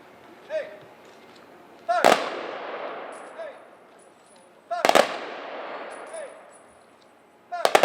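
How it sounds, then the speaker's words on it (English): A firing detail at an outdoor Veterans Day parade and ceremony fires a rifle salute: three sharp, loud volleys spaced a few seconds apart, each with a ringing echo fading across the open air. "After the firing detail fires their salute"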